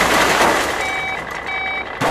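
Reversing beeps from garbage trucks dumping waste by a dirty river, two steady bursts of repeated tones over loud, continuous background rumble and noise.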